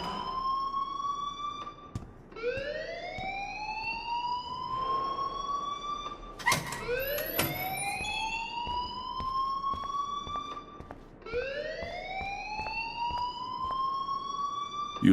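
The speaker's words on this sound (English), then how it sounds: "please turn off that alarm since that's your job" Rising-and-falling siren-like alarm wailing in the video game Life is Strange, three long sweeping cycles repeating loudly and steadily, with a brief clatter in between and no talk.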